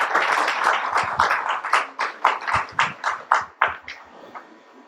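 Applause at an arbitration panel discussion thins into a handful of distinct, loud claps in an irregular rhythm that fade toward the end, heard nearby without talk.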